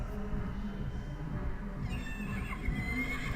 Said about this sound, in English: I know I've got a horse crash sound. It is horse crash.